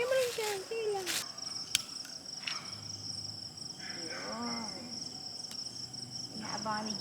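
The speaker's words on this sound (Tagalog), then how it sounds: "At dinig nyo yung mga huni ng kuliglig habang kumakain." Crickets chirp steadily in a shrill, continuous trill at night at a campsite resort in Magallanes, Cavite, with people chatting and dishes clinking nearby.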